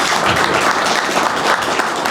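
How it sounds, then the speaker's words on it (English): Brief, steady applause from an audience for panelists at a Texas beer history celebration, a dense wash of many hands clapping close by with no break. "Hey, a big round of applause for our panelists."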